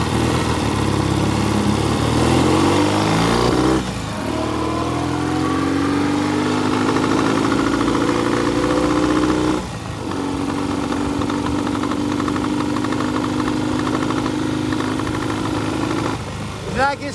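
A classic motorcycle idles unevenly with one cylinder misfiring, a loud close chugging rumble that falters, briefly cuts out and picks up again, while someone talks over it.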